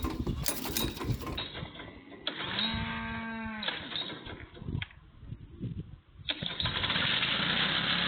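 The engine of a rare, rusty 1950s Shriners car, running on siphoned gas, cranks and sputters in uneven bursts, catches briefly with a rough, droning tone, falters, then picks up again into a louder, steadier run.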